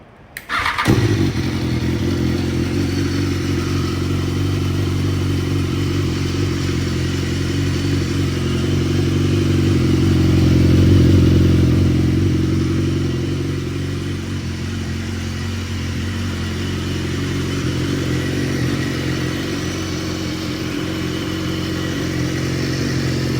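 A BMW S1000R motorcycle fires up close by and settles into a loud, steady idle with a brief rise in revs near the middle before easing back, no talking over it.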